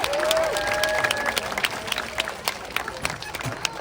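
Applause and scattered cheers from an audience at a safari park animal show in the West Midlands, steady clapping under a brief whistle-like cheer, fairly close, with a voice talking over it.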